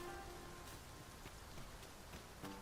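Soft, steady rain patters in the background of a video game, faint and even, with a few brief drips standing out.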